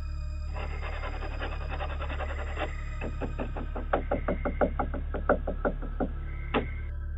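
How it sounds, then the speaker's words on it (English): Knocking and scratching on a wooden door picked up by a trail camera. Irregular raps build into a steady run of sharp knocks over a continuous low hum. "we can also hear intense scratching on the wooden door and continuous knocks"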